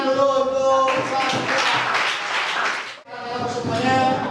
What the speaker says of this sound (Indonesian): ya kita tepuk tangan dulu untuk